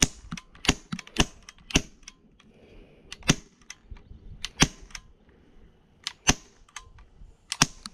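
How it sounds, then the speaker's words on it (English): A CO2-powered air gun firing a long run of sharp, dry cracks, some in quick pairs and some spaced apart, loud and close with quiet between the shots. "it almost sounds like a gunshot when you got a fresh CO2 in it"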